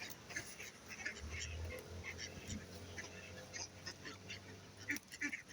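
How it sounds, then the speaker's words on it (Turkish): A duck quacks and honks a few times at a distance, faint and intermittent, over quiet outdoor background noise. "bir tane de ördek gelmiş arkadaşlar"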